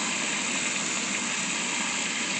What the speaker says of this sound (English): So I just grab the faucet and I can fill it up.